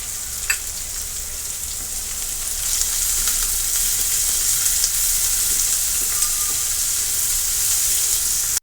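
Chopped onion with a pinch of salt fries in hot oil in a pan, a steady close sizzle and hiss that grows a little louder partway through, with faint stirring clicks.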